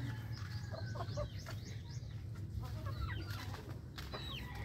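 Pet backyard chickens cluck and squawk repeatedly while eating, scattered calls rising over a steady low rumble of farmyard background noise, fairly near and continuous.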